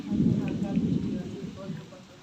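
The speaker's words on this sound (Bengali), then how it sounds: "আর আকাশে প্রচুর বজ্রপাত হচ্ছে।" A thunderstorm with rain and strong wind, low rumbling thunder and steady rainfall swelling loudly at first and easing off toward the end.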